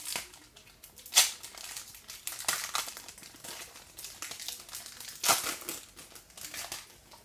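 A foil booster pack of World Cup trading cards crinkles and tears open close by, with sharp rustling bursts and steady crumpling throughout.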